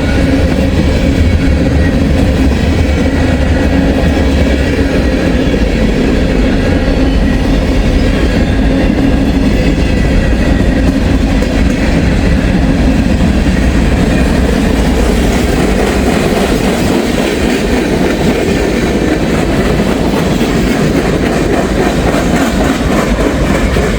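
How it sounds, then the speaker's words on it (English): A loud train passes close by for the whole stretch, its wheels clacking steadily with a rhythmic thump from a flat spot, a heavy rumble that eases slightly toward the end. "I'm hoping this is not the only train I'm going to get for a while."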